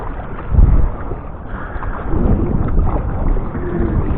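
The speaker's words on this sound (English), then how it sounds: "So right now I'm paddling into the wind." A kayak paddled into a southwest wind off South Padre Island on a fishing trip, with gusty wind buffeting the microphone and dull rumbling water surges from paddle strokes, close and continuous with no speech.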